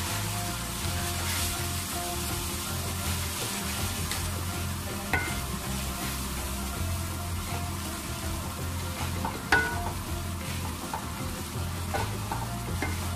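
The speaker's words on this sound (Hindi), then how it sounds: "इसको कर लूंगा अच्छी तरह मिक्स" A mixed vegetable sabzi of carrot, potato, peas and fenugreek being stirred in a pan, with a steady sizzle and soft scraping of the spoon continuing throughout, close and unbroken, with no talking.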